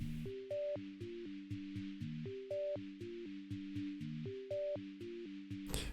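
A dry Synapse Audio Dune 3 arpeggio with no effects, playing a short repeating pattern of plucky, quickly decaying notes in a steady rhythm, moderately quiet, with occasional higher notes on top and a brief noisy burst at the end.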